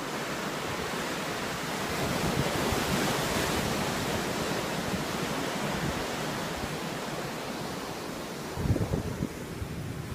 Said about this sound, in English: Sitting on a deserted beach, only a couple of fishermen around.